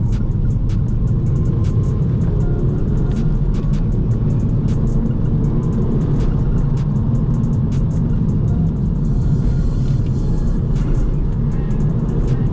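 A 2006 Volvo V50 T5 with a six-speed manual gearbox and all-wheel drive downshifts with heel-toe throttle blips, its engine droning loudly and steadily from inside the cabin amid constant road noise.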